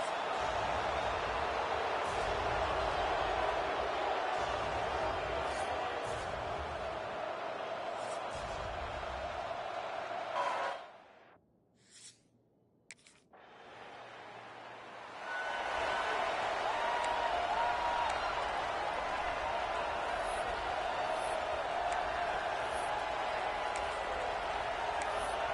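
Stadium home crowd roaring in EA Sports College Football 26, a steady broad wash of cheering that drops out briefly midway before surging back at full volume.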